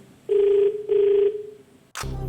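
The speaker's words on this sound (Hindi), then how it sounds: "अभिषेक सिन्हा मुंबई में फोन लगाया जाए इन्हें" An outgoing telephone call placed to Mumbai from a TV quiz game show: two loud, steady ringback tone bursts, a fading third, then a sharp click as the line connects into an open, humming line.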